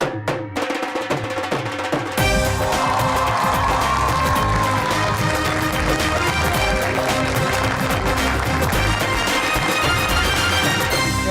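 Applause from a studio audience welcoming comedian and film star Iftikhar Thakur on a talk show, a dense, sustained wash of clapping that starts abruptly and stays loud, mixed with music.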